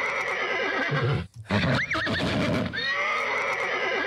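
A horse neighs with a loud rising-and-falling whinny in the middle, amid steady outdoor background noise and a brief dip to near quiet just before; a short spoken greeting is heard too.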